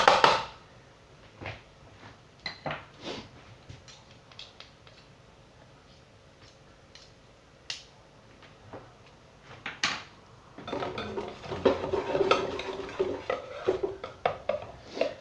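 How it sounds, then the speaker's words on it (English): Mac and cheese with pepperoni and jalapeño stirred in a small pot, close scraping and clinking of a spoon against the metal in sparse knocks, then a busier run of stirring near the end. "And just stir that about, a wee bit of stirry."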